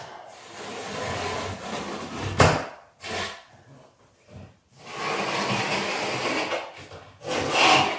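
Pencil or marker scratching and rubbing across a wooden model railway baseboard while screw lines are marked out, in several sustained scraping strokes separated by short pauses and light knocks.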